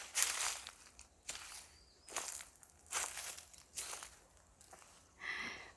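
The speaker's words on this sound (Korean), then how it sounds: "이 소리 들리죠? 이 발자국 소리." Footsteps crunch through a forest at a slow, steady pace, about six distinct crisp steps on dry ground, fairly close and alone with no talking.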